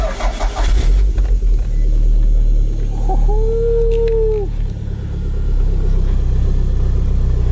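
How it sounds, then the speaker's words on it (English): A Toyota MR2 engine hums steadily from inside the cabin while driving, a constant low rumble with a brief rising whine in the middle, no talking. "So right now I'm driving Bob's red MR2"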